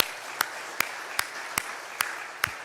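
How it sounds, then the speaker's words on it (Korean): Church congregation applauding during a Sunday morning worship service, a steady wash of many hands clapping together, fairly even and moderately loud, with a few sharper isolated claps standing out at regular intervals. "그분들 격려의 박수 주십시오."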